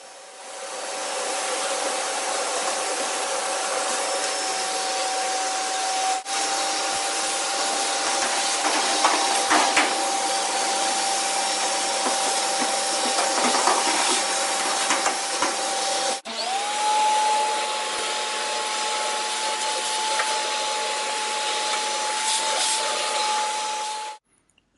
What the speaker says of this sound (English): here's some different shots of us cleaning the dryer with a vacuum cleaner, just trying to get as much lint up as possible